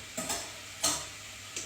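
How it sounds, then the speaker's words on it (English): Onions frying in a heated pan for a basic tomato sauce, a steady faint sizzle broken by a few sharp clicks and scrapes of stirring, close by with no voices. "until you can hear that sizzling sound"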